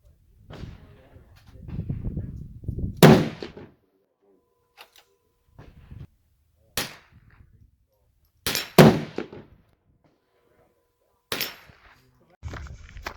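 Rifle shots from a Winchester Model 70 Super Grade chambered in .340 Weatherby firing 225-grain TTSX bullets: several loud, sharp single cracks spaced seconds apart outdoors, with someone talking briefly before the first shot.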